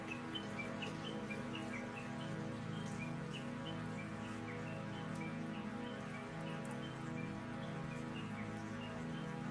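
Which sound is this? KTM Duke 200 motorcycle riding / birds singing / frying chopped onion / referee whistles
birds singing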